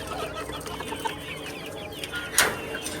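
White crested hens and chicks cluck and chatter around feed, a steady close mix of soft clucks and peeps with one sharper louder squawk near the end.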